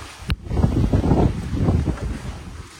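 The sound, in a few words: strong wind blowing during rain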